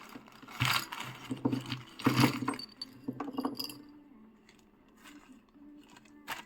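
Small loose items from an AliExpress parcel tipped out onto a surface, giving a scattered run of light clinks, rattles and clatters that bunch up early and then thin out to sparse ticks, fairly close and quiet.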